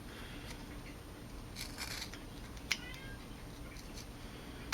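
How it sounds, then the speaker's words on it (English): A house cat meows at a door indoors in a workshop, one short faint cry and a couple of soft calls set against steady low room noise. "can you hear my cat meowing at the door?"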